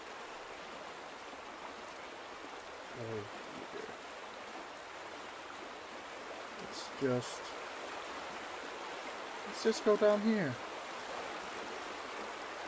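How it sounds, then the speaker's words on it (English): Steady flowing stream water from the video game The Vanishing of Ethan Carter, a constant broadband rush running throughout, with a person speaking briefly over it at a few points. "Is it water glitch or something I need to pay attention to?"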